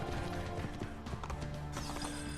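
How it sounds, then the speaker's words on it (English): Horse hooves clopping in Assassin's Creed 2, a quick, uneven clatter of close hoofbeats mixed with mechanical rattling over a busy game background. "I could take a horse"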